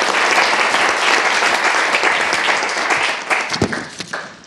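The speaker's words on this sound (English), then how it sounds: "let's give them a huge round of applause as they go back to their seats" Hearty audience applause for research fellows returning to their seats after presenting, loud continuous clapping that thins out toward the end with a few scattered claps.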